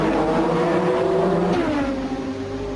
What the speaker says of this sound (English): Prost and Rosberg queued up to get past Senna